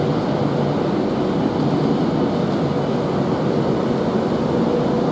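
Avanti West Coast Class 390 electric train pulling into London Euston, a steady, continuous rumble and rolling roar that holds evenly throughout with no voices over it.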